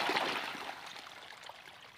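Water flows from a pump motor into an onion field at dawn, a faint continuous trickling and splashing stream heard alone.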